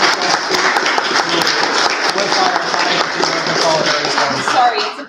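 A convention audience delivers loud, sustained applause, a dense wash of many hands clapping close by that stays strong throughout, with voices speaking over it.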